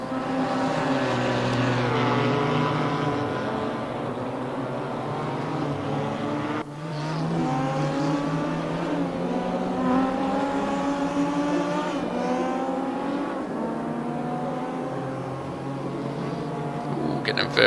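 GT race cars, a Porsche among them, lapping Mantorp Park in a GTR 4 Series round: loud, sustained engine howl rising and falling through gear changes, several cars overlapping close by.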